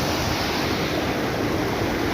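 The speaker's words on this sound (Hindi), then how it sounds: "साथ में जो चश्मा है साफ़ पानी ये चश्मे का ये आ रहा है इधर से दाएं तरफ से" Ice-cold mountain spring water rushes in a steady, broadband roar, close and continuous with no voices.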